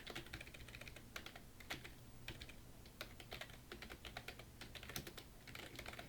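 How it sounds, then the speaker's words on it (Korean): A computer keyboard clatters with quick, steady keystrokes, typed continuously at a soft, close level with no other sounds. "한글 입력하겠습니다"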